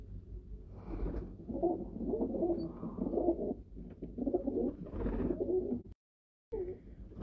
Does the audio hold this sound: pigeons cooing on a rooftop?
yes